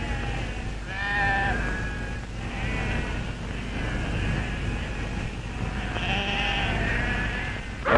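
Sheep bleat a few times from a flock at a pastoral farm, the calls rising over a steady low rumble of background noise, moderately near and otherwise unaccompanied.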